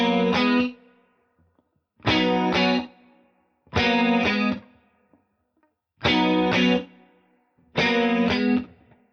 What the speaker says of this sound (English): I've got a clean tone with chorus on the Mobius and a light plate reverb on the Mercury X.